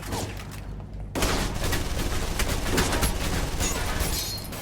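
Gunfire in the video game Alpha Protocol, a dense, loud stream of rapid shots that starts abruptly and rattles on continuously after a brief quieter lead-in, close and harsh.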